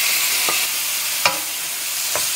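Masoor dal with garam masala stirred in a sizzling pan: a constant frying hiss with three short scraping strokes of a spoon, the middle one loudest, and no talk.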